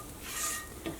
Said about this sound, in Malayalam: ഈ തേങ്ങ മാത്രമാണ് വറുത്തിട്ട് എടുക്കുന്നത്